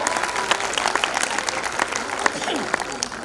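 Audience applause with some cheering at a school annual function, greeting young children about to dance on stage for the first time; steady clapping fills the room for a few seconds with some voices mixed in.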